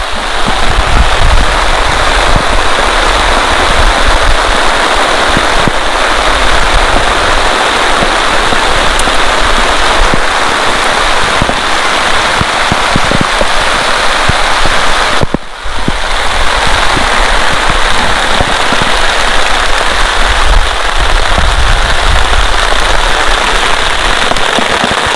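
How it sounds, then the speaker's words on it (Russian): Heavy rain pours down during a thunderstorm in a forest near a dugout shelter, a loud, dense, unbroken hiss of drops drumming on surfaces that dips briefly once midway. "Идет просто ливень."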